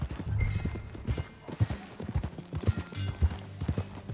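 Horse hooves clip-clop in Red Dead Redemption 2, a steady walking rhythm of close, distinct thuds on the ground with faint ambient sound between steps.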